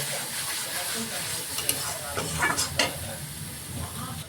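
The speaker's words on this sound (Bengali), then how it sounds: "দিয়ে মশলাটা আমরা ঠিক ভালো করে কষিয়ে নেব।" Spice paste with a teaspoon of salt being sautéed for Bengali crab curry (kakrar jhal), a steady close sizzle in the pan with scraping stir strokes around the middle, no talk.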